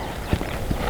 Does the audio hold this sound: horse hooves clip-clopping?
yes